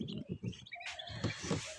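Newly hatched Chinese ducklings in an incubator, a quick run of faint high peeps and chirps repeating in short bursts.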